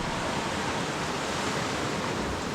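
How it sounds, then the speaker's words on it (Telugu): Fast river water at a forest shooting location rushes in a dense, continuous roar, loud and close with no voices over it. "వాటర్ ఫ్లో చూడండి ఫ్రెండ్స్, ఎంత స్పీడ్లో ఉంది"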